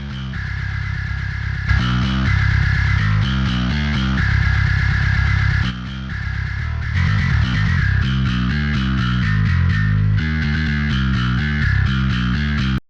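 A heavily distorted, compressed metal bass guitar through a DjinnBass plugin plays a loud, punchy riff of repeated low notes, steady and forward, with no voices.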